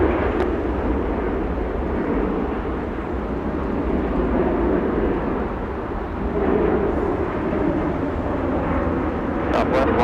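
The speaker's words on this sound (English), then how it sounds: "Qatar Airways flies to Doha, A350-1000." Qatar Airways Airbus A350-1000 departing LAX to the south, a steady broadband jet roar holding loud and unbroken throughout, close and dominant with no other sounds standing out.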